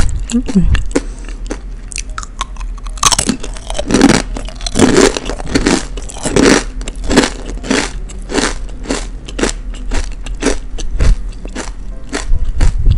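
Mini kembang goyang, a crisp fried Betawi snack coated with sesame seeds, being bitten and chewed close to the mic, giving steady loud crackling crunches throughout with a voice briefly heard at the start.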